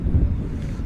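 Wind buffeting an open microphone at an outdoor VicBowl Division 1 football game, Western Crusaders v Geelong Buccaneers, on an overcast, windy day, a steady low rumble that fills the whole moment without any speech.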